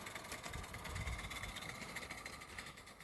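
A locomotive engine that is not yet run in hums and runs fast at a steady pace, with a continuous low vibrating drone throughout, close and fairly quiet, and no voices.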